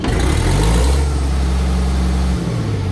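Motor engine throttling up after a kill switch is pulled, a loud close rumbling drone that holds steady with a rising pitch and then drops near the end, with no voices.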